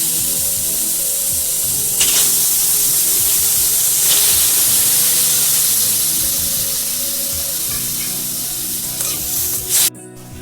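Pork dropped into a hot, dry kadai sizzles loudly and continuously, a bright steady hiss with occasional scraping stirs, alone with no talk.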